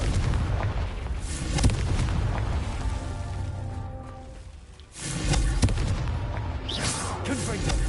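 Confringo fire spells bursting in the Hogwarts Legacy video game, a run of loud booming blasts with rumbling tails, a brief lull near the middle before more explosions crowd in, dense and close throughout.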